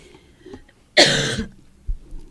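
A single sharp cough, close and fairly loud, followed by a faint thump.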